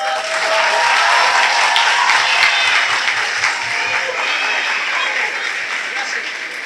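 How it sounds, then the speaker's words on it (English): A crowd applauding steadily at a school event, dense clapping that holds at a fairly loud level for several seconds before easing slightly. "let's give them all a round of applause"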